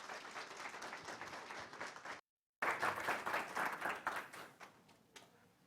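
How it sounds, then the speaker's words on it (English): An audience at a Genealogy Day talk gives a warm round of applause for the speaker Adam: dense, steady clapping from many hands that cuts out abruptly for a moment, then resumes and gradually thins out. "So would everyone please give Adam a really, really lovely round of applause."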